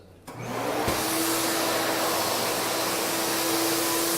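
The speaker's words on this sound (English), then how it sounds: "So we're going to use this wet vac to remove those off the surface." A wet vac starts up and runs at a loud, steady roar with a constant whine, vacuuming leftover grit off a ground concrete floor before epoxy coating.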